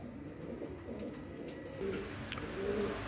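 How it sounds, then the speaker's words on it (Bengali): Racer pigeons coo softly in a loft, with a few low, rolling coos over a faint background of rustling and movement. "এখানে আরও এক পেয়ার রেসার কবুতর নিয়ে আসলাম"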